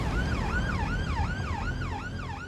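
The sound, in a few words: ambulance siren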